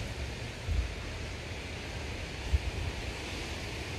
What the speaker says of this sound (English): no, it's warm, but it's windy